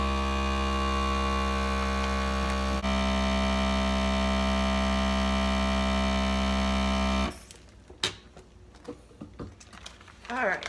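An older FoodSaver vacuum sealer runs with a loud, steady motor hum and buzz for several seconds, then cuts off abruptly, leaving quiet clicks and handling noises.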